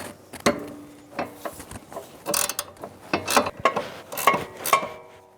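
Ratchet with a 5mm Allen head driving a sway bar link nut on a Jeep Renegade, sharp irregular clicking bursts and metallic clatter, close and alone, growing busier toward the end.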